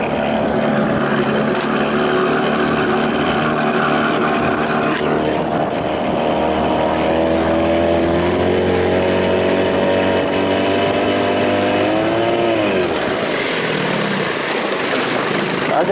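A 1993 Evinrude 25-35 outboard motor runs at idle on a boat moving about 2 miles an hour in weedy water, giving a loud, steady engine drone that shifts pitch slightly toward the end.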